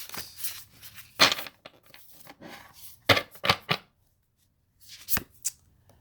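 Tarot cards are shuffled in quick riffling bursts, separated by short pauses, close and crisp.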